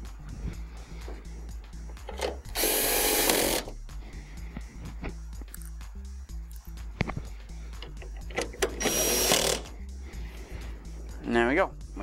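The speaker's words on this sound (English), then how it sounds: "I'm going to take our two screws and put those in." Two screws driven into the back cover of a DLP TV, likely with a power screwdriver: two short whirring bursts several seconds apart, close and fairly loud, amid quiet handling noise and a brief spoken remark.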